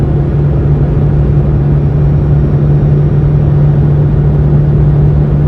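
A 2004 Vauxhall Corsa C driving along with a noisy wheel bearing, a loud constant low rumble and drone from the car with an even, unbroken hum and no talk.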